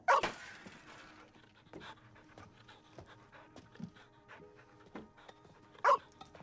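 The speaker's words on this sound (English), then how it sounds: "He is barking at Joyce's shed" A dog in a small-town TV drama scene pants quietly and steadily. Two sharp, loud barks come at the start and again near the end, with faint rustling in between.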